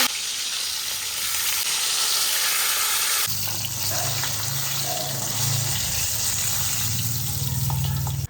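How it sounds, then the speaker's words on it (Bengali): Turmeric- and salt-coated eggplant pieces fry in oil in a wok, giving a loud continuous sizzle that jumps louder as more pieces go in, with occasional stirring clinks. "আগে থেকে লবণ হলুদ মাখানো বেগুনটাকে হালকা ভেজে তুলে নেব।"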